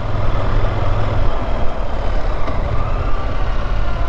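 A KTM Duke 990 motorcycle cruising at easy pace, its engine a steady, close, loud rumble with wind noise, holding an even tone throughout.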